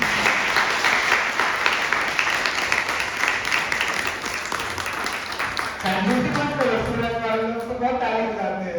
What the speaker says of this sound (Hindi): ताली बज सकती थी बाय द वे।